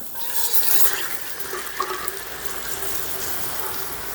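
Water is poured steadily into a pot of chana dal curry, a continuous splashing gurgle that holds its level for several seconds with no speech over it.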